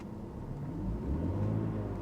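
A 2002 BMW 325Ci idling quietly, a soft steady low rumble up close with a slight swell in the second half.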